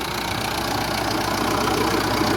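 A 2.5-litre turbodiesel in a 2012 Mitsubishi Pajero Sport GT idles smoothly, a steady close-up engine hum with an even low rumble and no talking over it.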